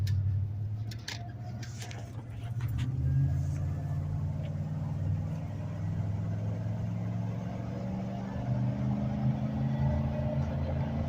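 A 1996 Ford F-150 XL pickup truck cruises along a highway, its steady low engine drone and road rumble filling the cabin continuously with no talk.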